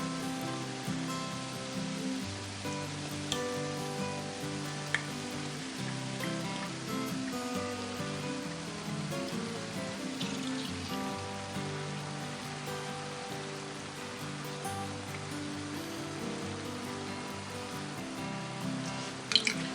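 Stir-fried grouse and vegetables simmer in an orange ginger sauce in a pan, giving a steady crackling, bubbling sizzle with scattered pops throughout, close and continuous with no talk.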